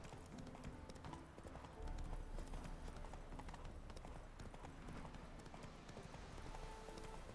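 A horse's hooves clip-clop in a steady gallop rhythm through The Witcher 3 video game, continuous and moderately loud amid outdoor game ambience.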